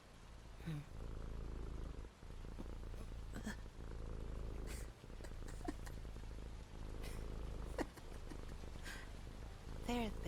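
A cat purrs steadily in a low continuous rumble close by, with faint background noises, a brief higher sound near the end, and no talking over it.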